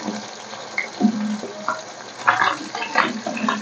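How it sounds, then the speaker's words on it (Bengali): Amudi fish frying in a pan with brinjal sputters and crackles steadily at close range, with a few louder pops and scrapes rising through the bubbling oil and no one speaking. "মাছগুলো আমার 1 থেকে 2 পিঠই ভালো করে ভাজা হয়ে গেছে"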